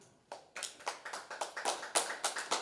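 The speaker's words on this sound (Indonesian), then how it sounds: "Kita beri sekali lagi tepuk tangan untuk Tuhan" Hands clapping in an evening church service congregation, a brisk, fairly even rhythm of sharp claps at moderate distance, no voices over them.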